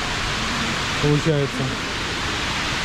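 The waterfall feature in the Dubai aquarium gives a steady, close rushing hiss of falling water throughout, with a short burst of speech over it.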